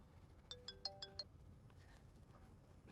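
A telephone rings in a quiet room, five quick bright electronic chimes in a rapid burst, fairly faint, followed by a couple of softer tones against low background hum.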